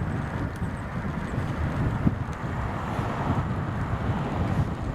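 Steady, heavy wind buffeting on a fast downhill bike ride down Brockholes Brow, a continuous low roar battering the microphone for the whole stretch, with no talk.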